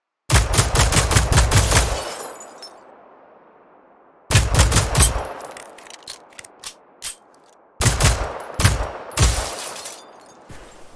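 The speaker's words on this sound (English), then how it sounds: "6 shots to break one headlight." Rapid bursts of gunfire from Generation Zero aimed at car headlights, three loud volleys of quick shots, each followed by a ringing decay, with some scattered single shots between.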